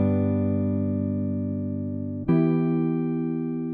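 Electric guitar through an amp simulator with the sim switched off, giving a dark, clean tone: a sustained chord rings, then a second chord is struck at about the two-second mark and rings out steadily, with no voices.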